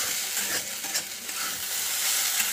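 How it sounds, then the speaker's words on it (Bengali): Potatoes frying in a pan of hot oil while being stirred. A steady, close sizzle runs throughout, broken by a few scraping stirs, and no one speaks. "এদিকে একটু আলু ভাজা করছি"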